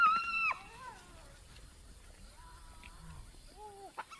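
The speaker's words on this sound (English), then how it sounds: "Hyenas are ripping an impala kill apart." Hyenas feeding on an impala kill give faint, scattered whooping and whining calls, some sweeping up or down in pitch, against a quiet background.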